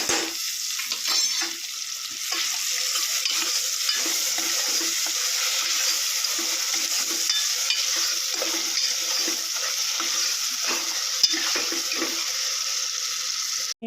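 Onion, tomato and green garlic chutney fries in a pan with a steady, close sizzle, punctuated by repeated scraping stirs throughout, no voices.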